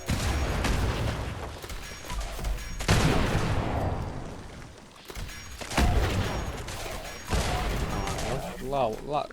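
Lickety-Split weapon firing in the video game Fallout 76, loud bursts of gunfire and booming impacts in several bursts, with someone talking over the shots.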